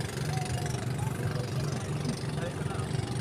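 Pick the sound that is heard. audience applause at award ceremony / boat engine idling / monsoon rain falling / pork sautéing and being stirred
boat engine idling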